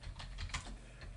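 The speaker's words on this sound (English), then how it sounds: "we are going to type the command sudo" A few quiet keystrokes on a computer keyboard while entering a command on a Raspberry Pi, brief and close.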